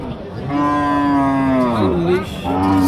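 A cow at the Barbazar cattle market before Qurbani gives one long, loud, close moo that bends in pitch near the end.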